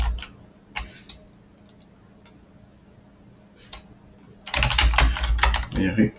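Typing on a computer keyboard comes through as a few scattered clicks early, then a dense, loud burst of rapid keystrokes near the end, with a faint ticking background in between.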